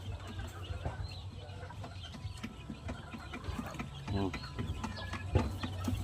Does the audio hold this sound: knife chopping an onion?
no